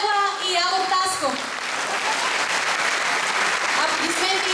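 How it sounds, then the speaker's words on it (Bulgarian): Steady applause from a crowd at an Easter concert fills the space, loud and sustained, while a voice speaks over the start and end. "Аплодисменти за ръководителите на школите по тамбура и гадука Ваня Вълкова-Коева и Явор Тасков."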